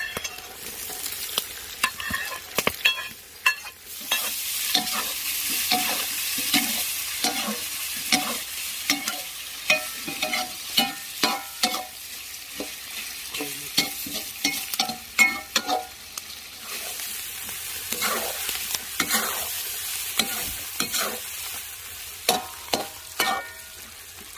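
Meat with fat-tail and onion sizzles in a pan outdoors while being stirred, with repeated scraping strokes over a steady frying hiss for the whole stretch, no talk.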